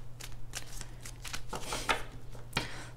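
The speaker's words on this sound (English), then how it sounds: "Three more shuffles." Tarot cards shuffled by hand: soft, close, rapid papery riffles and slaps in quick irregular bursts over a low steady hum.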